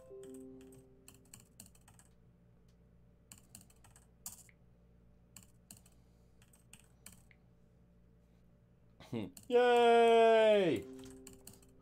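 Computer keyboard typing while playing Steins;Gate, light irregular taps scattered through a quiet stretch, then a loud cheerful exclamation from the game near the end.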